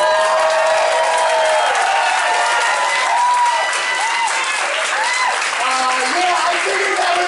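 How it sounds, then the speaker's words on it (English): At a comedy show at the Cutting Room in New York City, the audience gives a full round of applause with cheering, steady and loud throughout. Voices rise above the clapping. "round of applause if you think Edward Snowden is a hero"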